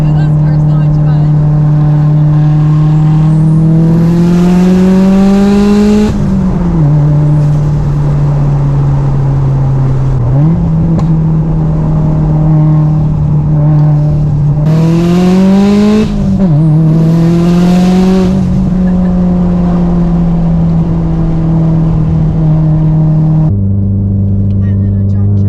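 A car engine roars loudly as it accelerates through several gears, pitch climbing and dropping with each shift; brief voices and laughter break in during the pulls.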